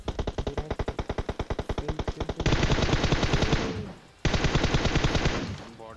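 Full-auto gunfire from Groza and MK14 rifles in PUBG, first a rapid even string of sharp shots, then a denser continuous roaring burst, a brief break, and another sustained loud burst.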